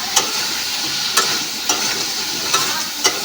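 Crab curry being stirred in a wok, with a spoon scraping at steady intervals about every half second over a constant close sizzle of frying.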